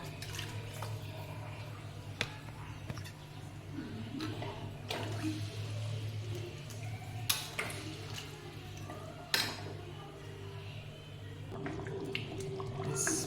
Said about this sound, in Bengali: আলু দিয়ে আর একটু কষিয়ে নিয়ে এবার এতে জল অ্যাড করে দিই। একটু ফুটে গেলে